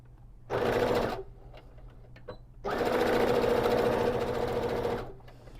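Sewing machine stitching a quarter-inch seam along the side of a small pouch for a tote bag, two runs of rapid even needle chatter, a short one and then a longer steady burst, separated by a quiet pause.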